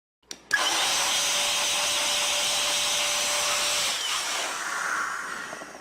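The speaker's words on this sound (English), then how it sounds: "Now I'm going to use my Data Vac electric blower. It is very powerful, but it's also very loud" A Data Vac electric blower runs loud and steady for several seconds, a broad whooshing roar with a faint whine, starting abruptly and easing slightly near the end; no one speaks.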